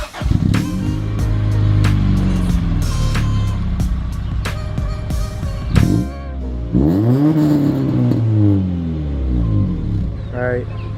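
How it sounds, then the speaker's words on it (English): A Honda Integra DB1 engine revs several times in quick bursts through a new exhaust, rising and falling sharply with a throaty exhaust note, loud and close. "I'll give you guys a couple revs and"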